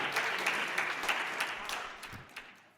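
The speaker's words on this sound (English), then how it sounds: "Give them a round of applause" Audience applause at a performance of freedom songs, a brief soft wash of clapping that fades toward the end, somewhat distant.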